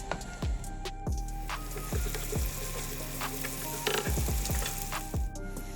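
Garlic sizzles steadily in hot oil in a pan for dhaba style masoor dal, close by, with intermittent scraping and stirring taps from a spoon against the pan.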